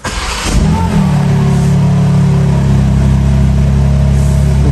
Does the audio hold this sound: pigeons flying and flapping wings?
no